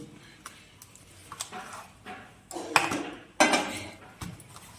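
A banana-leaf parcel of bele fish set into a frying pan, heard as a series of close, uneven clatters and clinks of metal cookware, with a couple of louder knocks toward the end.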